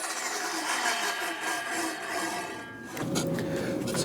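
A saw rips through 3/4-inch plywood for a small camping nightstand, giving a loud, steady, rough cutting noise that briefly dips near the end of the cut before a lower, rumbling pass takes over.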